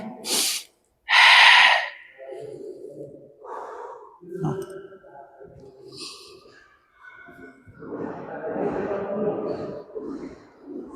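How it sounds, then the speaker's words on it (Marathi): Two sharp, forceful breaths pushed out through the mouth during a weight-loss exercise routine, followed by softer breathing under an instructor's spoken guidance. "तोंडानं श्वास सोडायचा"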